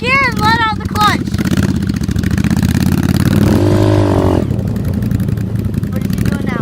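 Dirt motorcycle on a trail pulling away in first gear, its engine revving and rising in pitch up close, with voices talking over it at the start.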